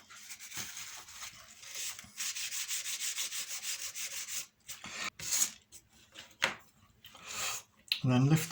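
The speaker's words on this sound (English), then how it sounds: "Quick rub down with the tissue" Tissue rubbed over a Tiger 1 tank model's track assembly, a steady dry scuffing run for about four seconds, then shorter bursts of wiping with gaps between, close and fairly quiet.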